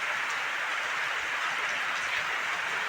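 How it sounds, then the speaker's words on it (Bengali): Heavy afternoon rain pours down during the monsoon month of Shravan, a steady, dense hiss of falling drops that stays even and unbroken throughout, with no voices over it. "হারে বৃষ্টি হচ্ছে আগে সোমবারেও পুরো বৃষ্টি ছিল"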